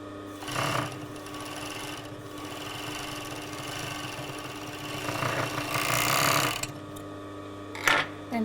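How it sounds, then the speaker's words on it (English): A sewing machine overlocks a fabric edge on an invisible zipper sample, running in steady bursts with a couple of brief stops and restarts, close and fairly loud with no talking. "stitch or overlock close to the edge, not cutting anything off, coming all the way down"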